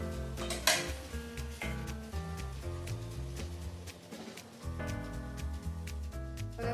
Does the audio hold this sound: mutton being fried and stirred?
yes